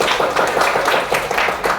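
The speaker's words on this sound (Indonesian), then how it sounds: "Tepuk tangan dulu buat teman-teman" A classroom of students claps for their classmates in a brief, fairly loud burst of rhythmic applause, with no talk over it.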